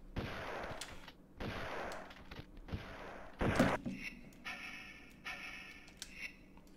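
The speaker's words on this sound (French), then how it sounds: "J'ai bien mon fusil à pompe." Shotgun blasts in the Tomb Raider 2 video game, several sharp booming shots spaced a second or so apart, followed by quieter game sounds and a short burst of rapid clicks.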